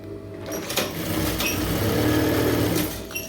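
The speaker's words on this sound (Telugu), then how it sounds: "ఇప్పుడు స్టిచ్ చేసేసుకున్నాను." A sewing machine stitching a star-shaped blouse neckline runs in one steady, fast whirring burst after a brief start, close and loud, then slows to a stop, with no talk.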